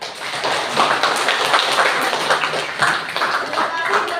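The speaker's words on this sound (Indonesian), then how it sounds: "beri tepuk tangan untuk" A classroom full of people clapping together, a continuous patter of many hands at a moderate distance.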